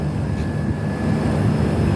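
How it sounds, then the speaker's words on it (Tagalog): A motorized water pump, a dynamo drawing water up, drones steadily and loudly nearby, a continuous rumbling hum with a faint whine and no break. "umaandar yung makina ng tubig doon oh"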